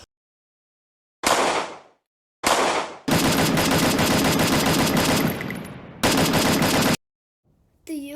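Rapid bursts of gunfire from a Glock pistol, loud and close: two short bursts, then a sustained stretch of rapid shots lasting about four seconds, followed by another burst and a brief quieter sound at the end.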